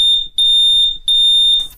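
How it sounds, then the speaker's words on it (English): A smoke alarm beeps loudly and close in a rapid run of four piercing, evenly spaced high-pitched tones, ending with a brief rustle. "That noise was a smoke alarm."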